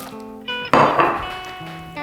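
A pot of broccoli in water with a pinch of sodium bicarbonate is set back onto a stovetop, giving a sharp metallic clank followed by a ringing rattle against a faint background hum; no voices.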